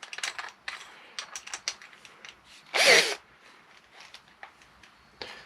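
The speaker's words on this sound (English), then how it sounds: "These step drills, especially when you're drilling larger holes, brilliant." A step drill bores a larger hole through a metal speedo bracket on an SR500 motorcycle project, with a short, loud grinding burst of drilling amid scattered clicks and handling noises.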